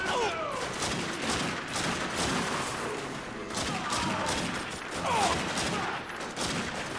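Explosive rounds fired in The Darkness 2 crack and thud in a continuous dense barrage, loud and steady throughout with overlapping impacts.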